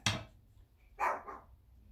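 A dog barks twice, a sharp close bark followed about a second later by another, with quiet pauses between.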